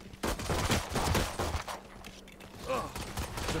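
Rapid bursts of gunfire in a Valorant match, dense and loud at first, then easing off before another stretch of shooting with in-game effects mixed in.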